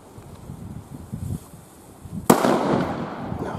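A leftover firecracker from a German New Year's Eve fireworks mix goes off outdoors with one sudden loud bang, followed by a rushing crackling spray that lingers, after some low rustling handling noise and no talk.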